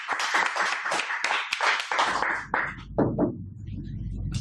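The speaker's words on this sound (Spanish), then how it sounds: "Así que un aplauso." Claps from a small audience at an NGO office event in honor of a scale-model vehicle team, dense hand clapping that thins out and trails off, with a low hum rising toward the end.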